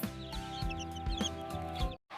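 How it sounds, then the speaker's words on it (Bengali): Baby chicks clucking and peeping in short repeated bursts, fairly close, over a steady musical background. "এইগুলো হলো মুরগির বাচ্চা মুরগির বাচ্চাকে ইংলিশে বলে চিক্স"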